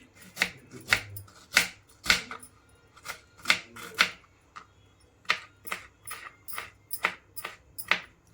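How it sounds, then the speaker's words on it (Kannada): A knife finely chopping onion on a board, a steady run of crisp, close cutting taps at an even rhythm with no voices. "ಆನಿಯನ್ ಕೂಡ ಚಿಕ್ಕ ಚಿಕ್ಕದಾಗಿ ಕಟ್ ಮಾಡ್ಕೊಳ್ಳಿ"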